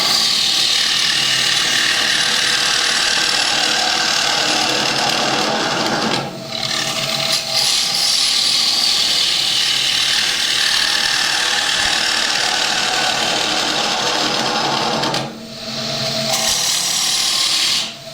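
A wood lathe spins a camphor laurel bowl blank while a tool cuts, giving a loud continuous whirring and scraping hiss that drops out briefly twice.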